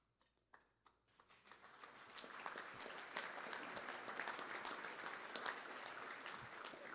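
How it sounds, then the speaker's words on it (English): Applause at a congressional forum begins with a few scattered claps, then swells into steady, fairly distant audience clapping that holds evenly to the end. "I had applause right there"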